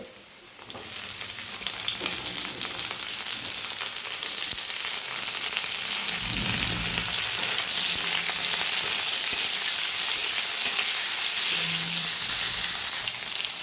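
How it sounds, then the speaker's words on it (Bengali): Potatoes fry in hot oil with a loud, continuous crackling sizzle, interrupted by occasional low clatters as they are stirred in the pan. "এবার আমি আলুগুলো ভেজে নেবো"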